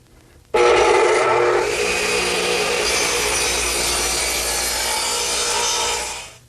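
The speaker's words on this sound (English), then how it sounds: "My radial arm saw has been turned to 18 degrees," A radial arm saw angled at 18 degrees bites into 2x8 redwood, with a sudden loud onset followed by a sustained, rasping cut that holds steady for several seconds before winding down.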